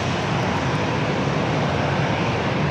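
A fixed-wing airliner at San Diego airport roars with a loud, steady engine rush that fills the whole clip, broadband and unbroken, with no voices over it.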